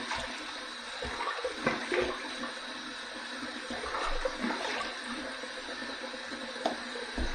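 Water splashing and dripping at a sink as a face is wetted with a few handfuls before a hot shave, a steady close wash of splashes with small irregular bursts and no talking.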